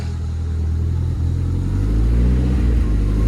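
A barn-find Ford Escort RS Turbo S2 engine, mid-overhaul and running on a fresh spark plug, revs up close in a workshop, a loud, thick rumble that swells and holds with a faint voice underneath.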